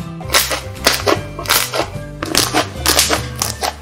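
Shaving-foam slime squeezed and pressed so air pockets burst in sharp, loud popping cracks like small firecrackers, coming in irregular close-up bursts throughout.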